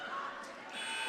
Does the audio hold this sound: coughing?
no